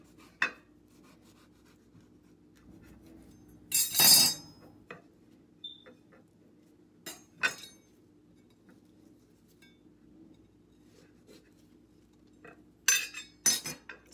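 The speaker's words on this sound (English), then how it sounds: "This is my cantaloupe, so I'm just going to take a slice out." A knife cuts a slice from a cantaloupe on a board, heard as a few sharp, close clinks and scrapes separated by quiet gaps, with a cluster of knocks near the end.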